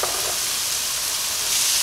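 Loud, continuous sizzle and hiss of chopped vegetables frying in a hot pan, with a brief burst of crackling at the start.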